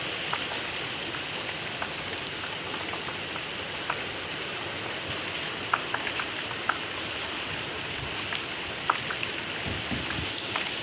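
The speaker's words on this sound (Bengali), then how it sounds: "এত জোর বৃষ্টি পড়ছে" Heavy rain pours down outdoors at midday, a steady dense hiss with a few sharper drop ticks scattered through it, continuous and without any voices.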